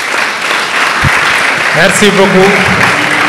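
Audience applause at a school sports awards ceremony, a broad steady clatter of clapping hands filling the room, with someone speaking briefly over it.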